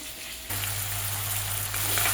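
Chicken frying in a pan with onion and tomato, a loud steady sizzle that jumps up sharply as food hits the hot oil and keeps crackling close by.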